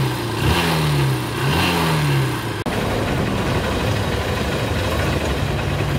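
A motorcycle engine idles steadily and close by, with a couple of brief revs rising and falling early on, then a continuous mid-pitched running drone; a short click breaks in midway.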